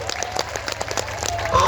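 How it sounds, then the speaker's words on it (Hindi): Crowd applause at a padyatra gathering, brief scattered clapping that rises over a short burst alongside background voices. "जोरदार ताली बजा करके"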